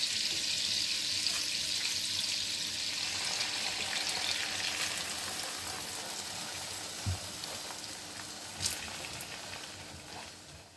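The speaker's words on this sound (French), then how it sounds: "Là maintenant j'ajoute le jus d'orange." Orange juice pours into a hot pan for crêpes Suzette, a continuous soft hissing and sizzling rush that slowly fades, with a couple of brief clatters near the end.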